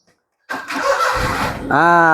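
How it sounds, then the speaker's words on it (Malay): A Proton Viva manual car, repaired after a fuel pump no-start fault, cranks briefly after silence and fires up, settling into a loud close idle with rising engine tone. "Kereta sudah hidup."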